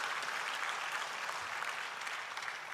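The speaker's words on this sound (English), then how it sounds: "Kindly give the President a warm round of applause." Audience applauding the President at a presidential dialogue during the AfDB 2022 Annual Meetings, steady dense clapping from a large crowd throughout without voices.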